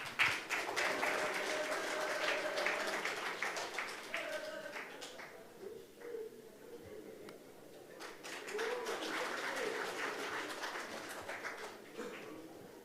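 Applause from an audience at a Korean party rally greeting an election committee member as he steps forward, a moderate, uneven patter of clapping spread through a hall, with voices and a few brief tonal sounds mixed in.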